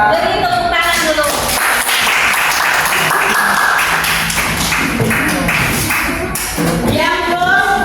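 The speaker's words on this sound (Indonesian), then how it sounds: "Beri tepuk tangan dulu." Applause for a student presentation in a classroom fills the room, loud and dense taps and claps mixed with scattered voices and shuffling throughout.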